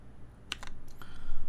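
Mechanical keyboard fitted with Cap Milky Brown switches, typed on in a few quick close clacks, a short cluster of distinct keystrokes with no talking.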